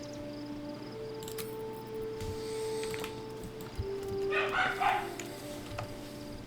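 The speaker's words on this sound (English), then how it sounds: "Dogs barking." Dogs barking in Baldur's Gate 3, a few sharp yips and barks rising over a busy game soundtrack with steady background tones, moderately loud amid the ambience.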